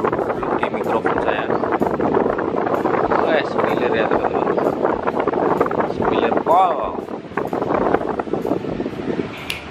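An electric fan that had grown weak from poor upkeep runs on speed setting 3, giving a loud, rumbling wind noise close against the microphone. Someone talks over it throughout.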